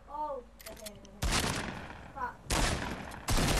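Gunfire rings out in the Fortnite video game as several loud, sharp bursts of shots break in abruptly. A player's voice comes through in the gaps between them.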